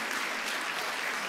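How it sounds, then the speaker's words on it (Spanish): A church congregation applauds loudly and steadily, dense clapping filling the space without a break from start to finish. "Aplauda fuerte al Señor."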